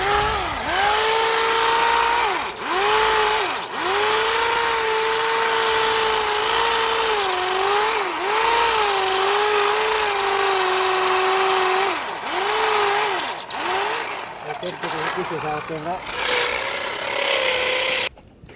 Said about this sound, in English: they're up here drilling in to next to the slab of the garage